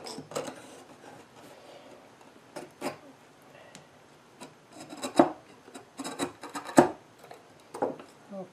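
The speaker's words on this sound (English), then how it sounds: "shaving off the tenon" A hand tool rasps and pares wood from a 17th-century-style bench tenon in a string of short, close, uneven scraping strokes with brief pauses between them.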